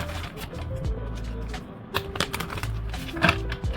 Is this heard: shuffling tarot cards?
yes